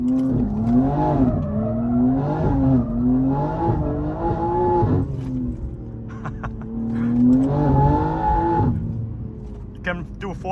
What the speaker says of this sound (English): You can do fourth gear slides so easily.